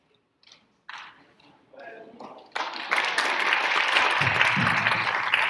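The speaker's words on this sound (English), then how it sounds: "feel free to keep applauding" At a senior awards assembly, a few spoken phrases give way to audience applause that swells up around the halfway point and holds as a dense, continuous clapping crowd to the end.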